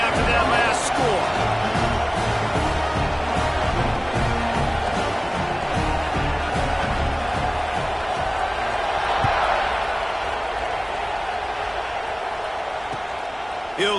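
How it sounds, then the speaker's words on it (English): Steady roar of a packed football stadium crowd buzzing after a score at a UCLA at Washington game, a broad continuous wash with scattered shouts and cheers, with a commentator's voice over it. "this crowd is buzzing after that last score"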